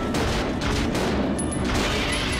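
Dense, continuous gunfire in Resident Evil Zero as a scorpion-like monster is shot, a loud, sustained barrage of overlapping blasts and booms filling the whole stretch with no talking.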